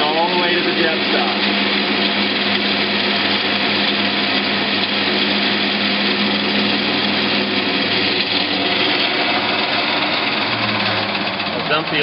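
A power tool drills steadily through an aluminium cable drum, a continuous high whining motor tone with grinding under it for the full stretch, loud and close.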